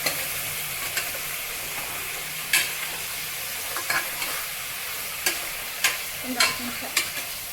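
Mutton frying and being stirred in a pan, steady sizzle with repeated spatula scrapes and knocks against the vessel, and a brief spoken remark over it.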